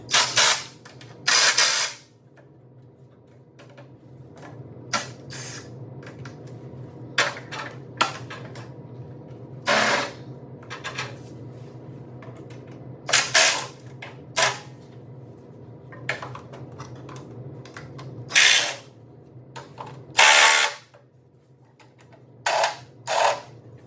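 Impact wrench driving bolts into a build in a shop, firing in short loud bursts separated by pauses, over a steady low hum of background machinery.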